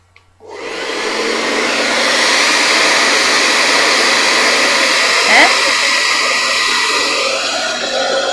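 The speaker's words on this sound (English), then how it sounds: "hairdryer. This is going to be noisy." A hairdryer roars on abruptly and runs at a steady, loud, close blowing hiss for several seconds, used to clear pen lines from cross-stitch fabric, with no talking over it.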